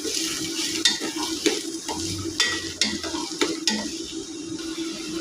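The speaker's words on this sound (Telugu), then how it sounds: "ఉల్లిపాయలు పచ్చివాసన పోయేదాకా వేసుకోవాలి." Onions fry in a pan for a drumstick and tomato curry, with a continuous sizzle broken by several crisp scraping stirs of a spatula, close up, with no voices.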